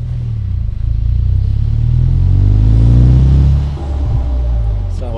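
A Morgan Plus Four car engine pulls from low revs, a loud deep rumble that swells under throttle, dips briefly and then carries on, with someone talking over it.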